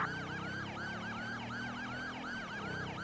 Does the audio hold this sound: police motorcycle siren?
yes